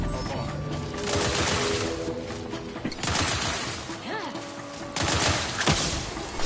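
Bursts of rapid sci-fi gunfire from The Outer Worlds 2, loud and dense in three clusters with brief lulls, mixed with game music and a synthetic voice speaking over the combat.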